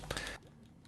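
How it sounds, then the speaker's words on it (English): Quick faint clicks from a game controller during Minecraft play: a short cluster of plastic button taps lasting under half a second, then near silence. "Sorry if the clicking on my controller is a bit annoying."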